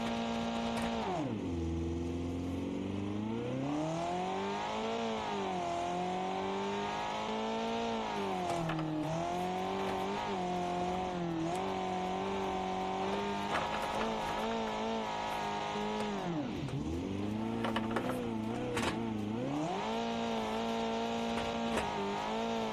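A naturally aspirated car engine in the Automation video game revs loudly and continuously, its pitch swooping down and climbing back up several times with sharp dips. There is no talk.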